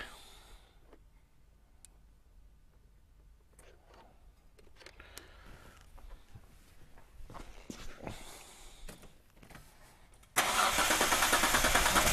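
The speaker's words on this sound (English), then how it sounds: "I'm just gonna go and start that car real quick." A Hyundai Terracan with a misfire fault cranks over with clicks and bumps before its engine suddenly catches, settling into a loud, steady running roar close by.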